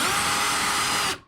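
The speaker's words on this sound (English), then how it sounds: "So I'm gonna drill this out." A power drill spins a step drill bit steadily through a clutch pedal mounting point, a continuous high whirring grind for about a second before stopping abruptly.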